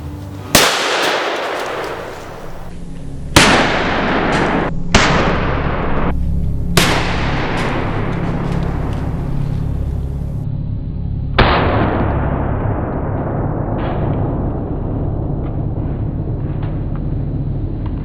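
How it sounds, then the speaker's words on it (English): A Ruger 1911 pistol in .45 ACP fired at titanium and steel plates, several loud sharp gunshots spaced irregularly, each followed by a ringing decay, over a steady outdoor background hum. "So we have a Ruger 1911, chambered at 45 ACP."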